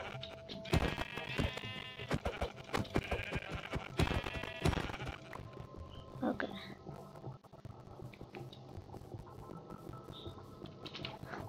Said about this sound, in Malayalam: ആട്